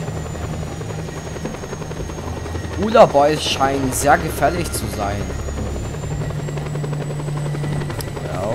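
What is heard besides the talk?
helicopter in video game Just Cause 2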